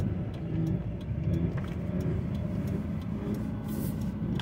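Ford F-150 being driven with faulty 4x4 actuators, giving a rapid, repeated clicking and knocking over the steady rumble of engine and road noise from inside the truck.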